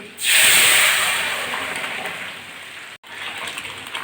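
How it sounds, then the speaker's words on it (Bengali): Lentil dal poured into hot oil with dried red chillies and a bay leaf bursts into a loud, hissing sizzle that gradually eases, briefly cut off near the end before resuming. "এটাই এখন ডালটা ঢেলে দিচ্ছি"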